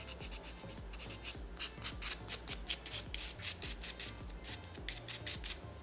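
Electric nail file (e-file) buffing the shine off a natural nail surface and working into the cuticle corners, giving a steady close-up rubbing, rasping drone with short repeated scratchy strokes, no voices.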